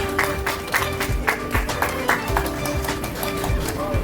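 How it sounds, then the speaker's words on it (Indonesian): An audience of mothers and fathers claps at a community social service gathering, steady scattered applause that holds for the whole stretch at moderate loudness, with some murmuring in the room. "Yuk, tepuk tangan dulu ya Ibu Bapak."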